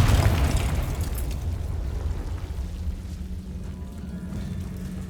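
Spell blast from the Confringo fire spell in Hogwarts Legacy: a loud booming burst at the start that decays into a low rumbling tail with a steady low hum beneath, no voices.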